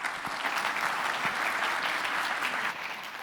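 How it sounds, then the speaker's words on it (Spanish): A conference audience claps steadily, a dense even applause that holds throughout and eases slightly at the end. "Démosle un fuerte aplauso, por favor."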